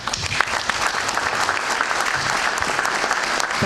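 Audience applause at a joint announcement event, a dense, steady wash of many hands clapping that runs throughout with no break.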